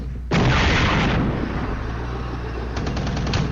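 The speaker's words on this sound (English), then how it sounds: "The tanks open fire and kill another self-propelled anti-tank unit." Tanks in a multiplayer war video game fire their main guns: a loud, sudden booming blast that rolls into a long rumbling tail, followed by a quick burst of sharp, rapid shots near the end.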